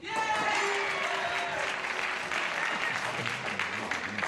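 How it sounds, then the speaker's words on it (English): Game show studio audience applauding with some booing mixed in, a dense, steady wash of clapping and crowd noise that holds loud throughout, with a voice coming in near the end. "one dummy is booing, everybody else is applauding."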